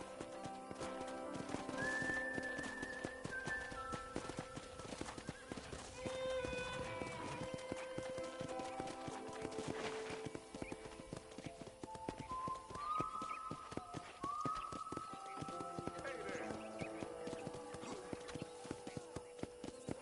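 Horse hooves clip-clop steadily through a Red Dead Redemption ranch scene, a continuous mid-level rhythm mixed with whistling music tones and an occasional whinny.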